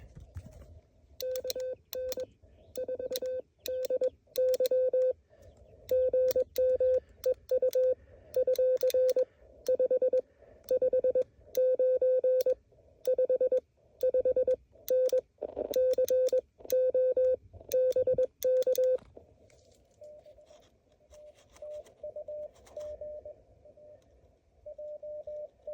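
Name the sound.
Morse code signal on amateur ham radio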